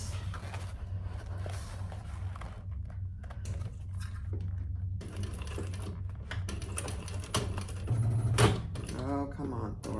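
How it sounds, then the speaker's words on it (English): A sewing machine stitches the seam allowance of a crossbody sling bag in short bursts with pauses between them. There is handling clatter and a faint voice in the background. "we're going to sew these together at the seam allowance in the pattern"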